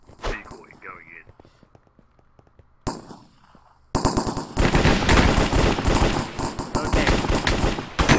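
Rapid bursts of gunfire from a Minecraft zombies and bedwars cops-and-crims game, loud and dense from about the four-second mark onward after quieter sparse shots, with a brief spoken word early on.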